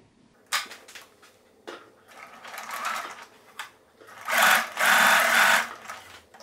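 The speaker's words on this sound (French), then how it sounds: "on va juste piquer au point droit" A sewing machine sews a straight stitch on a t-shirt, with short bursts of close rapid whirring and clacking, brief pauses between runs, and a longer steady run near the end.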